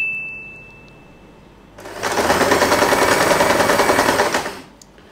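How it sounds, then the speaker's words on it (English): A sewing machine stitches fabric for a twisted headband, starting after a quiet pause, then running in a steady, loud, rapid whir for about three seconds before stopping. "I am going to sew this part."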